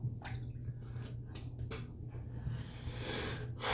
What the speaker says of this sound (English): Let's rinse my face off a little bit